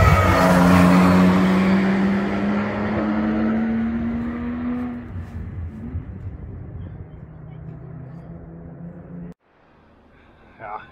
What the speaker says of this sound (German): Hier kommt da, der Dacia. Lässt voll stehen, kräftigen Sound da auch.